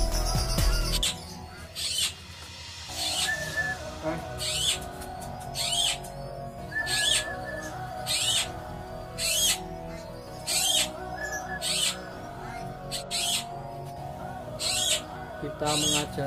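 A zebra dove (perkutut) being tamed calls back in response, repeating short, bright, rhythmic calls about once a second, fairly close, over a faint background.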